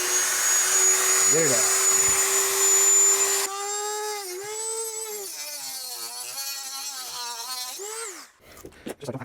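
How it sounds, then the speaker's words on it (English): A Dremel rotary tool spins at high speed with a steady whine, cutting out a stuck screw while salvaging 18650 cells. It then runs loud and close with pitch dips as it bites, before stopping, and a brief spoken comment follows. "can't seem to get that screw out normally, so let's just use a Dremel tool"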